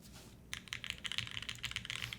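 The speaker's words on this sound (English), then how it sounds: "it's not a bad keyboard." Rapid clicky keystrokes on a mechanical computer keyboard with an alpha-style layout, starting after a brief pause and continuing as a dense, steady patter of close, moderately loud key presses.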